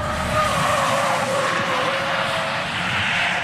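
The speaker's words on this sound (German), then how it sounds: "Drehen sie einmal driften ein bisschen." A car drifting, its tires skidding in a sustained loud squeal over engine roar, continuous and close throughout.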